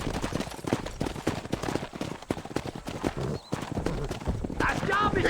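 Horse hooves clip-clop steadily in Red Dead Redemption, with a brief whinny near the end, heard under ongoing voices and game ambience during a cattle drive down a road.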